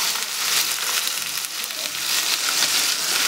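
Steaks sear in hot sesame oil in a pan, giving a continuous close sizzle and bright crackle that holds steady throughout with no talking.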